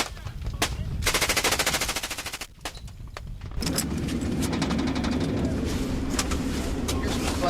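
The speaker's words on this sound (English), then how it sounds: "Machine gun fire from both sides." Machine guns fire in long rattling bursts during combat in the 2003 Iraq war, loud and rapid with single shots between bursts and a dense sustained volley toward the end.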